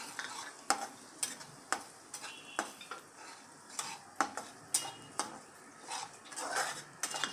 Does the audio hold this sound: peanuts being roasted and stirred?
yes